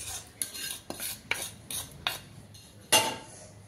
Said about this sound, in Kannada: ಇದಿಷ್ಟನ್ನು ಚೆನ್ನಾಗಿ ಮಿಕ್ಸ್ ಮಾಡ್ತಾ ಇದ್ದೀನಿ.